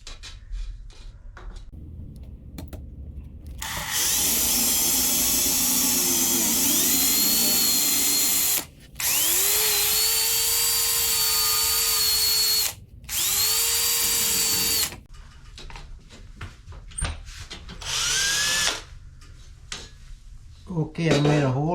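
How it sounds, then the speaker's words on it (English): A power drill boring screw holes in plywood during cabin building, several long high whining runs with pitch dips as the bit bites, broken by brief pauses and followed by shorter clattering handling noises. "So first I need to make holes using the drills."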